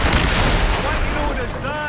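Ship cannons firing during a naval battle in Assassin's Creed Rogue, a dense, loud barrage of booming shots rolling together, with crew voices shouting over the gunfire.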